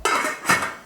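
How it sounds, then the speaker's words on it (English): A metal lid set onto a cooking pot on a stovetop, two quick clanks with a short ringing decay, close and alone. "Okay, lid on."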